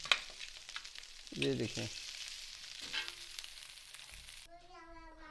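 Rice frying and being stirred in a pan, a close, continuous sizzle with scraping stir strokes, while a voice speaks briefly over it.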